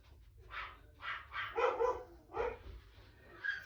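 Several dogs bark in short bursts at a house, triggered by noises like a mailman or passersby; the barks come in loose clusters, moderately close, with no talking over them.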